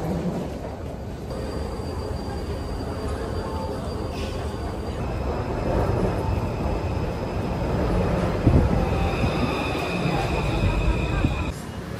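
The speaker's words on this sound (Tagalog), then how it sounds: "Nandito kami ngayon sa MRT. Sasakay na kami pa uwi." Rumbling MRT metro train noise with a steady mechanical drone and high whining tones, swelling slightly midway; a voice is faintly audible underneath.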